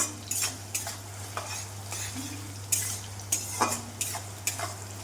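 Onion frying in mustard oil, a quiet steady sizzle over a low hum, punctuated by regular scraping and tapping strokes of a spatula against the pan, nearby and without any speech.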